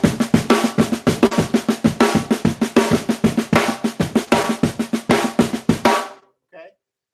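A drum kit plays a dense 7 against 5 against 4 polyrhythm, rapid overlapping hits of cymbals and drums driving for about six seconds before a sudden stop and one faint final tap.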